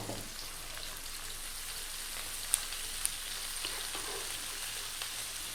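Onions, garlic and white cabbage fry in a pan with a soft, steady sizzle and crackle, marked by a couple of brief sharp pops.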